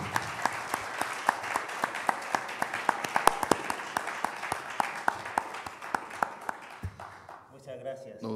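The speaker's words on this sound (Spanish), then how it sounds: "un aplauso para él." Applause from a university lecture audience welcoming a guest speaker on Mo Yan and Chinese narrative: many distinct, close claps in a lively rhythm that taper off, with a voice starting to speak as it fades.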